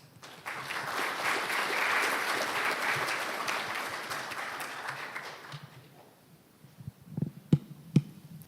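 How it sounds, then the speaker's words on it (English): Warm audience applause at an award ceremony welcoming a speaker, a dense steady wash of clapping for about five seconds that fades out, followed by a few isolated sharp knocks and thumps. "Please welcome her with a warm round of applause."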